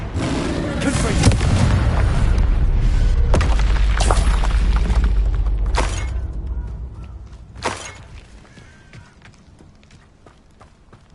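A Confringo blasting spell bursts in the video game Hogwarts Legacy, a loud booming explosion with crackling, shattering debris that rumbles for several seconds, followed by a few sharper impacts as it fades.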